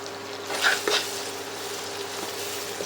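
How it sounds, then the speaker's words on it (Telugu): Ginger garlic paste fries in oil in a pan with a steady, close hiss. A stirring scrape near the start makes it briefly louder, then the even sizzle continues alone. "అల్లం వెల్లుల్లి లైట్గా పచ్చి స్మెల్ పోవాలి, లైట్గా ఫ్రై చేసుకుని కొంచెం ఫ్రై అయిపోయింది"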